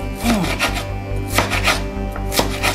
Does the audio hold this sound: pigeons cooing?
no